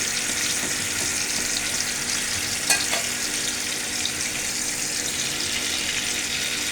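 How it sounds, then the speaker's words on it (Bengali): Catla fish frying in plenty of hot oil in a pan, a constant close hiss and crackle held evenly throughout, with one sharper pop partway through. "মাছ এপিট ওপিট করে সাবধানতার সহিত ভেজে নেবেন"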